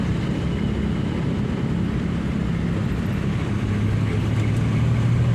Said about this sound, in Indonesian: Mobil tidak mengaung, namun RPM mengisi.